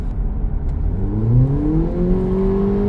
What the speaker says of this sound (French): Je mets le pied, paf, ça rétrograde de 1 ou 2 rapports.